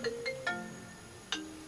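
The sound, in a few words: phone ringtone for an incoming call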